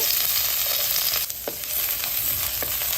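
Green chillies, curry leaves and finely chopped onion frying in two spoons of oil, a continuous close sizzle with a few soft stirring scrapes and no talking.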